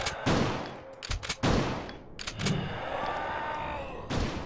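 Gunshots in Resident Evil 2 crack out in loud, sharp bursts, several close together and then spaced apart, with echoing tails between them.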